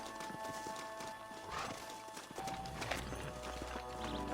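Horses in the video game Red Dead Redemption, with hooves clip-clopping at close range and a neigh rising over a dense game soundscape.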